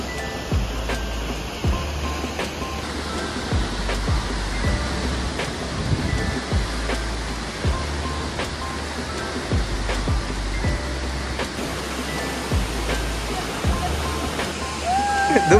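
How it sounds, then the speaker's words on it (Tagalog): Awasan Falls, the tallest waterfall in Region 1 in Ilocos Sur, roars as a steady, dense rush of falling water, loud and constant throughout with faint voices now and then underneath. "Welcome to Awasan Falls! Ang pinakamataas na falls dito sa Region 1."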